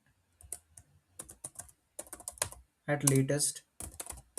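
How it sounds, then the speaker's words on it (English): Rapid clacking keystrokes on a computer keyboard as an npm command is typed into a terminal, coming in short bursts with a louder cluster near the end and a few quiet spoken words mixed in. "So I need to execute npm command. Let me type npm create"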